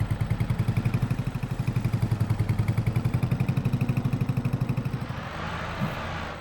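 A tractor engine in Farming Simulator 22, working a snowy logging job, runs with a steady, rhythmic diesel chug close by, then cuts out after about five seconds, leaving soft background noise.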